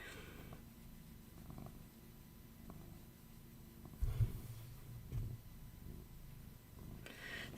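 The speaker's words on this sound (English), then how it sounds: "So, I don't know if you can hear my cat purring." A house cat purrs close by in a quiet room, a soft steady low rumble running through the whole stretch with a couple of brief louder bumps partway through.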